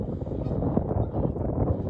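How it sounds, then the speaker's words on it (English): Gusty outdoor wind buffets the microphone in a steady low rumble that swells and dips, close and fairly loud, with no clear talk. "This way windier than I was expecting."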